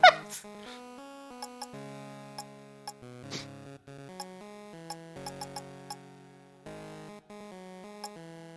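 A cat-themed special attack in a video game: a rapid, tonal run of synthetic chiptune meows and squeaks, stepping up and down in pitch, with sharp clicks dotted through it, sounding loud and near.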